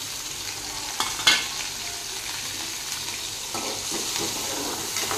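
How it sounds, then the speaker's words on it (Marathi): Green chillies and garlic frying in a pan, a soft continuous sizzle with a couple of sharper crackles early on, fairly quiet and unbroken by voices. "आणि यामध्ये मी आता एवढी हिरवी मिरची घालत आहे।"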